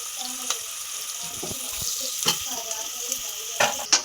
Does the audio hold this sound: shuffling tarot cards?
no